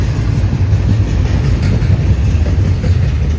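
A freight train with a distributed power locomotive rolls past at close range, a loud steady rumble and wheel roar with no breaks.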